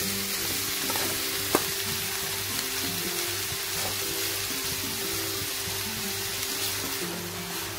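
Grated carrots sizzle and fry in hot ghee in a pan as they are stirred, a steady close crackle with occasional scrapes and clinks, no voices.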